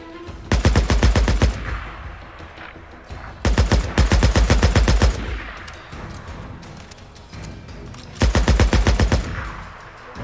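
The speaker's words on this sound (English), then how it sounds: "What is he shooting at?" Bursts of rapid automatic gunfire in the video game Days Gone, three loud sustained volleys separated by quieter pauses of ambient game sound.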